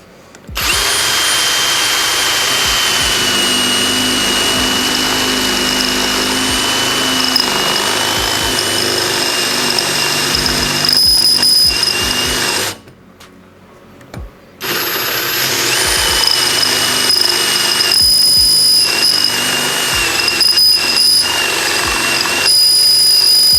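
A Vitals Professional AU 1860Pbt cordless drill-driver bores into metal at second speed: a loud, steady motor whine with shifting load that cuts out briefly midway, then resumes strongly to the end.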